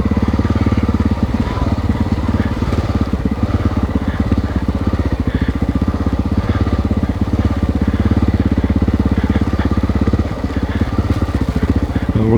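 A Honda XR600R motorcycle engine runs on a test ride, a loud, continuous rumbling thump up close with rattly clatter, steady throughout and dipping briefly near the end.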